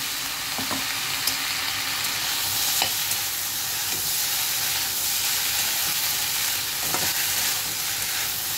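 Soaked sago pearls are gently stirred in a hot pan for sago pulao, giving a loud, continuous bright sizzle and hiss with faint scraping strokes of the spoon throughout.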